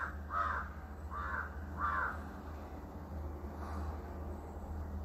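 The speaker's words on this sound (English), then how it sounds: "That's a visitor on my window, the crow." A crow calling at a window gives three quick harsh caws in a row, then a fainter fourth after a pause, over a low steady background hum.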